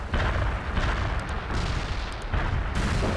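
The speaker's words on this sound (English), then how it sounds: "Artillery firing." Artillery barrage in the strategy game World in Conflict: repeated heavy booming shots, each burst loud and rumbling, with no voices.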